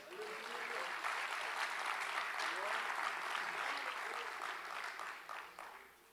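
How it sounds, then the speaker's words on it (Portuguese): Church congregation applauding during a sermon, a steady, fairly loud wash of clapping sustained for several seconds, with voices and murmurs mixed underneath before it thins out at the end. "Você pode aplaudir o Senhor por isso?"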